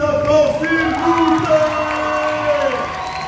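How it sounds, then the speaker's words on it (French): Audience cheering, whooping and clapping after a K-pop dance performance by a dance academy at the Kamo Play 2022 festival, a dense, steady crowd roar with shouts rising throughout, while an MC speaks over it. "on les applaudit bien fort"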